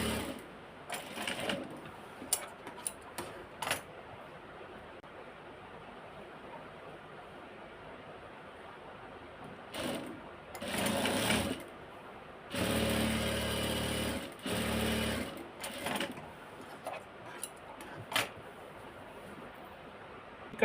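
Sewing machine stitching the side seam of a kameez, running in a few close whirring bursts separated by quiet handling and pauses.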